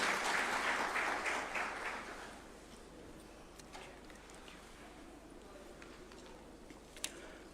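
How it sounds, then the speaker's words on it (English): Applause at a judges' swearing-in ceremony at State House in Nairobi rises briefly and then fades into a quiet room, with a few faint knocks and a sharp tap near the end. "A round of applause, please, as he approaches the swearing-in arena."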